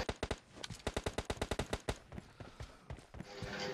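Rapid automatic gunfire in the mobile game PUBG Mobile Lite, a quick string of about twenty sharp, evenly spaced shots, then a rushing noise as the firing stops.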